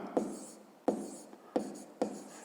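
Handwriting on paper while working a fifth-grade math exercise, four distinct scratchy strokes each starting with a sharp tap and trailing off, close and fairly quiet.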